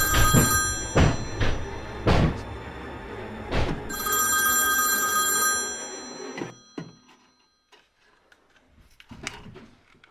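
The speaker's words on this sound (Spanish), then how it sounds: "el teléfono comienza a sonar" A telephone bell rings inside a house in a series of loud, sharp bursts, followed by a stretch of near silence and then a faint final ring.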